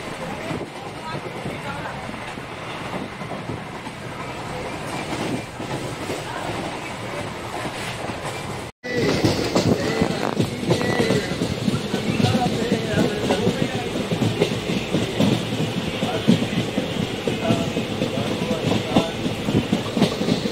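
Inside a moving passenger train travelling from Bangalore to Goa, a loud continuous rumble carries rhythmic clickety-clack of the wheels, which briefly drops out before returning louder, with voices murmuring underneath.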